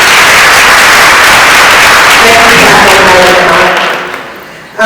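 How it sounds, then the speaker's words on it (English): An audience at a charity event claps in a loud, dense, sustained round of applause that slowly thins out and fades near the end, with faint voices under it. "So let's give him a round of applause."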